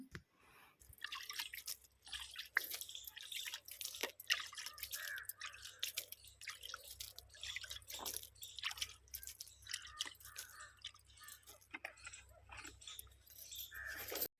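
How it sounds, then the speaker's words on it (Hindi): Water splashed and poured onto farm field soil where potatoes grow, a steady close run of wet spatters and trickles for several seconds, with faint outdoor background and no talking. "थोड़ी सी नमी बनाने के लिए यहाँ पे पानी डाल देती हूँ"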